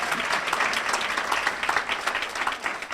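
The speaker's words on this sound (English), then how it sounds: "I paid John from METV to start the big clapping." An audience at a women's resource center's founders legacy luncheon claps in a dense, continuous round of applause, moderately soft and steady throughout.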